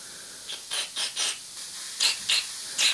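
An airbrush at full trigger blasting solvent cleaning spray through, a quick series of seven or so short, sharp hissing bursts, close and distinct.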